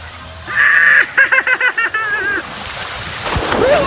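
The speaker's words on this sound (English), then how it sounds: "that was a very fun slide I got to take you on" Splashing rush of water and wind along a water slide at Disney's Blizzard Beach, with sharp rhythmic bursts and a whistling tone midway, close and loud throughout the ride.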